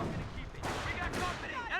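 Sniper rifle fire and battle noise in Company of Heroes, dense overlapping gunshots and explosions in a busy game fight lasting under two seconds, with a voice talking over it.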